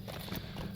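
Horse hooves clip-clopping steadily in the fantasy online game LOTRO, a quick soft rhythmic patter of hoofbeats over a constant hum and background ambience.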